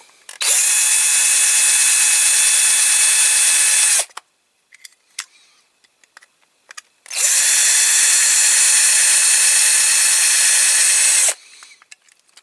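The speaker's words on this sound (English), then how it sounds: "Try drilling a little bit more." A power drill with a blunt bit working into a Matchbox Kingsize Scammell tipper toy truck: two loud, steady high whines of about four seconds each, separated by a quiet gap with a few small clicks.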